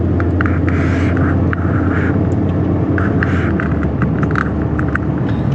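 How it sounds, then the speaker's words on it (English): A car rolls at low speed through a small town of old buildings, its engine a steady, close rumble with road noise and a few passing sounds outside. "Let's get in the car, take a drive, and go look at it."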